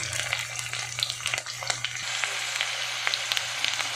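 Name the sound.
garadu (yam) pieces frying in oil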